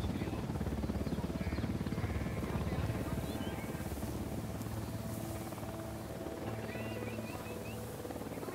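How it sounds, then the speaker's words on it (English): A helicopter in the Ghost Recon Wildlands video game thrums steadily with a continuous rotor drone throughout, accompanied by scattered in-game ambient sounds. "Hit the dirt. Helicopter."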